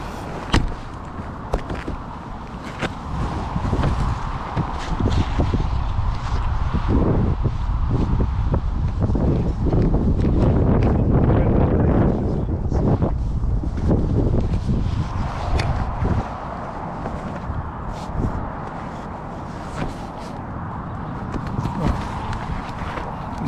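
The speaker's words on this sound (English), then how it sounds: "See, it's quite windy." Wind buffets a farm outdoors in a steady, loud, rumbling rush that swells and fades over some twenty seconds. Clattering handling noises and a person speaking come through over it.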